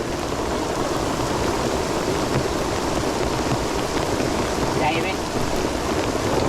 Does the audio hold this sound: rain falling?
yes